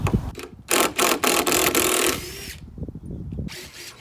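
A power drill backs screws out of a wooden support cleat on a ramp, several short loud whirring bursts with brief pauses between them, plus a few clunks and some handling noise.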